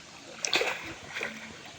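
Water splashes as a fish trap is rinsed in a river, a couple of quick sloshing bursts close by, with a short trickle between them and quiet river ambience.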